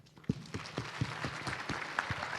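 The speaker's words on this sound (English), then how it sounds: "a round of applause" Applause at a recognition ceremony starts suddenly and keeps up as distinct, fairly faint claps from a modest audience in a hall.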